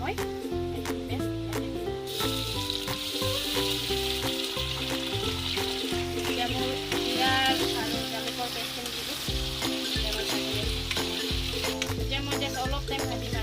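Browned onions with a cumin and pepper paste fry in a pan for an Assamese mutton curry, a close, continuous sizzle with stirring scrapes, and a voice speaks over the cooking.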